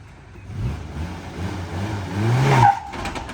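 A Suzuki Caribian four-wheel-drive's original gasoline engine strains and revs as all four tires spin and scrabble on loose off-road ground, ending in a rising whine.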